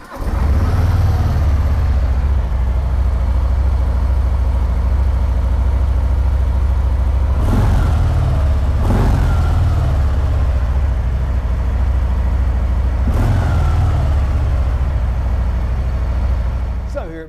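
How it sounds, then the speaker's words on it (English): A Harley-Davidson FLSB Sport Glide motorcycle engine runs close by with a loud, steady low rumble that holds for the whole stretch, broken by a few brief sharper bursts that sound like throttle blips. "So let's fire this one up and have a listen."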